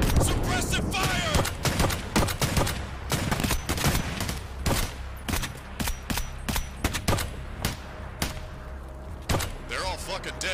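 Gunfire in a fan-made Tarkov movie, dense bursts of rapid shots and booming reports repeating throughout, with voices shouting between and under the volleys.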